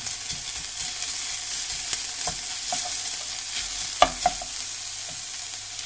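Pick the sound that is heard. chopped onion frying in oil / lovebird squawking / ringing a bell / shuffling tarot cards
chopped onion frying in oil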